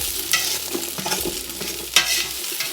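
Onions fry in olive oil in a pan while chili is being made, giving a steady close sizzle broken by a few louder stirring scrapes, with no talking.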